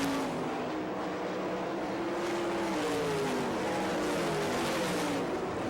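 Sprint cars racing on the dirt track at Barberville, Florida, during an All Star Circuit of Champions heat race, engines rising and falling in pitch as cars sweep past, moderately distant with a constant roar, no talking.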